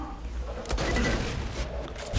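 Shotgun blasts in the shooter game Borderlands 2, with a loud rolling burst of gunfire around the middle and another sharp shot at the end, set over game noise.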